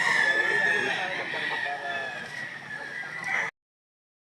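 A rooster crows loudly and close at a chicken sale, one long drawn-out call over a busy background of other fowl and a few voices, ending abruptly in silence.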